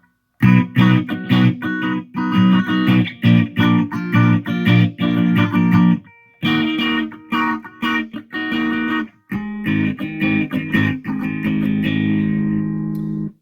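Guitar chords strummed in a rhythmic sequence, close and fairly loud, with two brief pauses between phrases and no voices.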